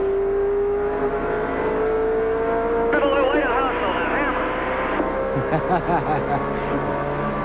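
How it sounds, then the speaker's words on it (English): A 1995 NASCAR stock car at New Hampshire International Speedway, recorded from the car on the back straightaway out of turn 2: a loud, steady engine drone climbing in pitch, with commentators talking over it. "This is Sterling Marlin we're riding with here, coming out of turn 2, going down the back straightaway."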